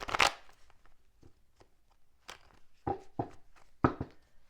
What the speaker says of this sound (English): So let's get a shuffle here.